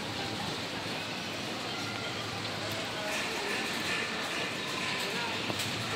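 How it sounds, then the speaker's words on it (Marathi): Rain falling steadily outdoors, a continuous close hiss and patter that stays even throughout with no breaks. "आमच्याकडे पाऊस पडतोय आता."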